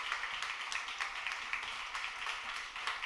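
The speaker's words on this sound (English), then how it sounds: "so give us a big round of applause" Steady applause from a panel audience at a women-in-music industry event, a dense patter of many hands clapping at moderate volume, continuous and without talking.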